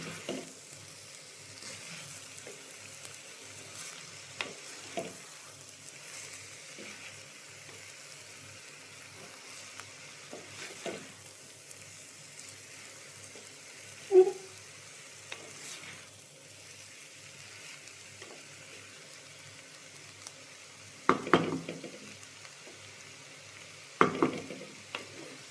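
Shredded cabbage for thoran fries in ghee, a soft steady sizzle with scattered scraping stirs and a few louder clanks of a spoon against the pan.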